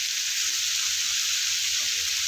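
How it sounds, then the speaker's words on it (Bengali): Bitter gourd, potatoes and onion fry in oil with a strong, continuous hissing sizzle that holds steady and close for the whole stretch, with no other sounds. "পেঁয়াজ দিয়ে ভাজা হবে।"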